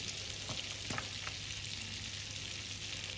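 Garlic frying in a pan of butter with a little oil makes a continuous, even sizzle with faint crackles, steady and close with no voices.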